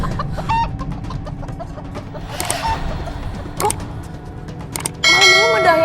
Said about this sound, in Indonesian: Malam-malam ada ayam berkokok sih.